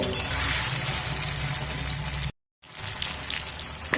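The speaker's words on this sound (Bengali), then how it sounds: "পনিরগুলো হালকা করে ভেজে নেব" Steady crackling sizzle of paneer pieces frying in hot oil, loud and close, broken by a brief moment of silence before the sizzling resumes.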